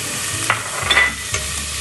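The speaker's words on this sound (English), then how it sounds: "we are going to saute this with the onions and the ginger and garlic" Minced meat sautés with onions, ginger and garlic in a pan for murtabak, a steady sizzle broken by a few spatula scrapes and stirs, close and clear with no talk.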